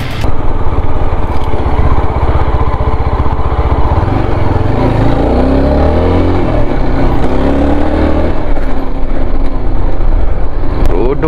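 An off-road vehicle engine labors loudly and continuously through rough riding on a hill trail, its drone shifting in pitch as the throttle changes, close and dominant throughout.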